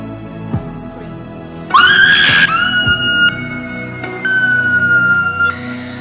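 A girl screams loudly in sustained, wavering cries over a backing soundscape, with a few breaks between the long shrill bursts.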